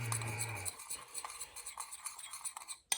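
Seasoning mixed together in a bowl, a quiet close run of spoon scrapes and light clinks in an uneven rhythm, with a brief low hum at the start and no speech.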